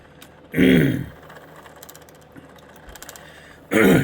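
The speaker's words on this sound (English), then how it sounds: "if I got to clear my throat" A man clears his throat twice, two rough, gravelly bursts near the microphone separated by a few seconds of quiet room noise.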